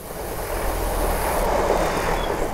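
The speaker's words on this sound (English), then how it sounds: "Train!" A train rumbles past close by the Exe Estuary Trail, a broad loud roar with wheel clatter that swells and holds steady.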